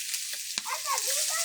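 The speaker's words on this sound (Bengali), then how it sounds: "এখন আলুগুলো ভেজে নিতেছি" Potatoes frying in hot oil in a pan in a home kitchen, a steady close sizzle with bubbling crackles and one sharp tap partway through.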